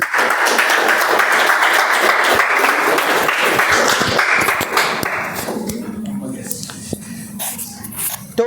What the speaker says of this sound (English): Please give a huge round of applause to Toastmaster Aravindan.